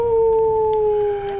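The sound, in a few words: wolf howl emote in a video game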